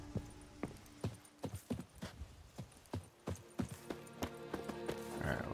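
Horse hooves clip-clop in The Witcher video game, a steady run of sharp, evenly spaced near hoofbeats across the whole stretch, with faint game ambience and a soft rising whoosh at the end.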